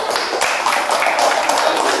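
A classroom group of trainee teachers applauds, a dense, close patter of many hands clapping steadily for a couple of seconds.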